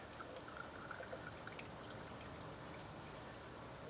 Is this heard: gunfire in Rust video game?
no